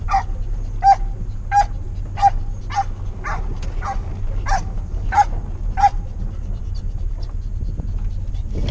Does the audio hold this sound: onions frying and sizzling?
no